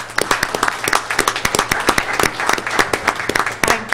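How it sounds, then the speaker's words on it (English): An audience claps for Sylvia Nelson, honoured for 28 years of service to the Atwater Elementary School District at a city council meeting: a steady round of close, sharp individual claps from a modest crowd, with a few voices faintly underneath. "And we want to give her a round of applause."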